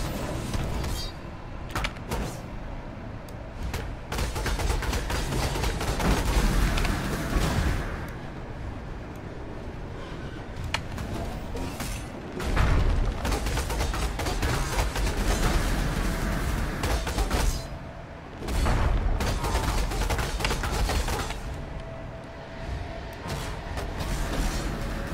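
Mines go off in the Path of Exile game during a boss fight, a dense run of booming blasts and crackling impacts that fills the whole stretch, loud and continuous with brief dips between volleys.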